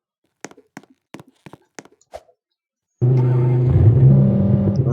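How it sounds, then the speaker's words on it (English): A video-game car engine starts abruptly after a few sharp clicks, then holds a loud, steady droning rev with shifting pitch through the rest of the clip. "Spawn a car."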